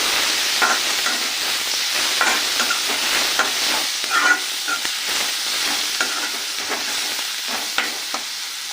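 Egg curry with tomatoes, salt and half a spoon of turmeric sizzles steadily in a pan while a spoon stirs it, scraping and clicking in irregular strokes close by. No one speaks.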